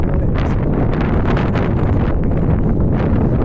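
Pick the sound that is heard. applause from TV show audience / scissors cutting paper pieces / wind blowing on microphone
wind blowing on microphone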